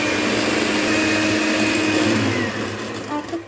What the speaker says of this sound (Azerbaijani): Bunları yaxşı-yaxşı qarışdırırıq.